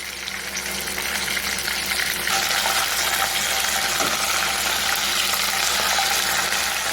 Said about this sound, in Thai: ดับไฟแต่น้ำมันก็ยังเดือดอยู่